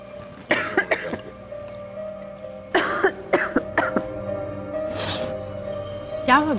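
Several short coughs and throat-clearing bursts from a person with a morning cold, spaced through an indoor TV-drama scene with a steady background tone and a little speech.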